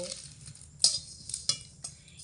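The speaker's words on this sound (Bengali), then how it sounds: "এই চার রকম আমি গরম কড়াইয়ের মধ্যে দিয়ে হালকা আঁচে নাড়াচাড়া করে একটু ভাজা ভাজা করে নেব" Cumin and dried chilli roasting in a hot wok over low heat, with a soft dry sizzle broken by a few sharp clinks and scrapes of a spoon stirring against the metal, close by and without talk.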